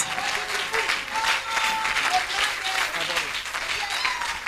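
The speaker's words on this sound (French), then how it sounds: "Clap for Jesus, clap for Jesus." A church congregation claps in steady, dense applause at a service, loud and close, with a leader's voice calling out over the clapping.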